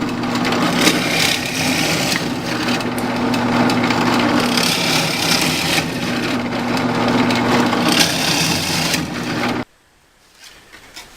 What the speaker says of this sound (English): we're going to drill holes all through here with this 7/8